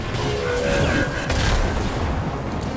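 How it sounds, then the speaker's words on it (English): A dimensional flashbang ability goes off in the sci-fi strategy game Halcyon 6, a loud, dense boom that sustains as a rumbling blast with a faint sweeping whine through it. "Dimensional flashbang again."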